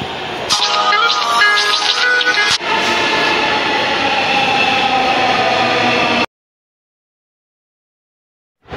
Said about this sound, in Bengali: মেট্রো ট্রেনটি চলে এসেছে গাইস, দেখুন।